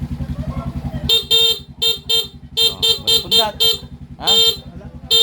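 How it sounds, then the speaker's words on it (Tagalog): A motorcycle horn honks in a rapid series of short, bright beeps over a steady idling engine, close by, with a brief spoken phrase near the end. "Busina."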